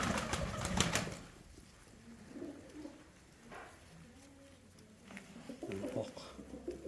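Uzbek pigeons coo in soft, low repeated phrases up close, with some rustling and faint wing movement around them, heard alone at low volume.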